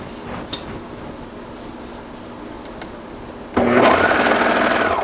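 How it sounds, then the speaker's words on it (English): Sewing machine stitching a seam on a knit t-shirt: a quiet room with a couple of small clicks, then the motor starts abruptly and runs in a steady, close whir to the end. "So stitch all the way to this pin or clip before removing."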